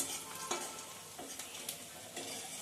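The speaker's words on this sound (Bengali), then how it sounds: "এটা বেশিক্ষণ ভাজবো না, কেননা আদাটা বেশি ভাজা হলে কড়া হয়ে যাবে" Chopped ginger and garlic fry briefly in a pan for tadka dal, giving a soft sizzle with a few light stirring scrapes and no voices.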